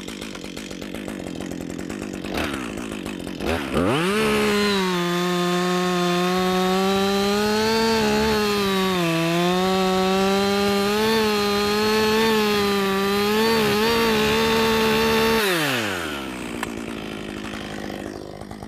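Chainsaw cutting through a tree trunk during felling, the engine jumping from idle to a loud sustained full-throttle whine for about twelve seconds with slight pitch wavers as it bites, then dropping back to idle.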